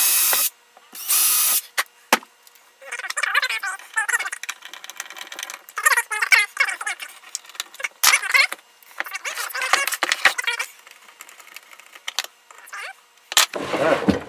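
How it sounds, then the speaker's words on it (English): A power drill bores pilot holes while a thermostat-controlled outlet is being mounted, with close, intermittent whirring bursts separated by short pauses and handling noise. "Okay, so I need a couple of pilot holes."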